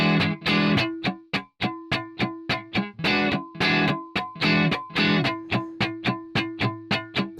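Funk guitar strumming exercise on a lightly distorted electric guitar, with a steady, tight rhythm of short chord stabs broken up by percussive muted dead-note chops, close and played alone.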